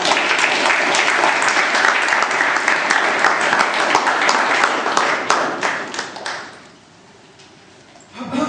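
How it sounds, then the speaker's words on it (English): Strong audience applause at a club meeting's table topics session, dense and steady clapping for about six seconds that then fades to near silence before a brief rise at the very end. "Big round of applause for Bala"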